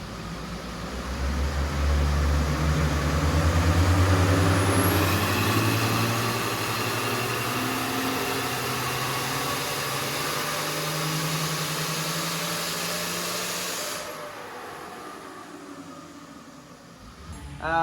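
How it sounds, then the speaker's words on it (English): A TD42 diesel engine with a screamer pipe runs loud and steady on a dyno, holding a sustained rumbling drone for about fourteen seconds before cutting out to near quiet, then building again at the very end. "get a bit of video of the screamer shooting some flames"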